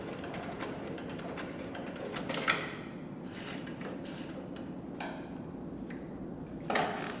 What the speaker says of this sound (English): I'll put the machine in reverse.